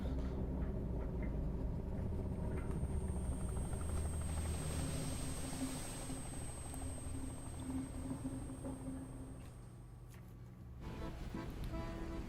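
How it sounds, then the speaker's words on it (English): Helicopter rotors spin in the video game DREDGE as an executive boards after a drill tower is destroyed, giving a steady, close, throbbing whir with a faint high whine that holds through the whole clip. "the executive boards his helicopter, rotors already spinning"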